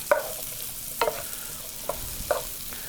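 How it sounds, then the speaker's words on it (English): Onions and celery sautéing in a pan, with a soft steady sizzle and a few distinct stirring scrapes of a utensil against the pan at irregular intervals, close and moderately quiet, with no talk. "We want to saute our onions and celery till they get, just a good brown, translucent look."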